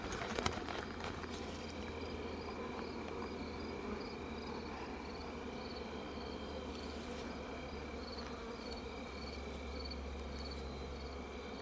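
Honeybees mass around a hive during varroa mite treatment, a dense continuous buzz of many insects holding steady throughout, close and alone with no talking.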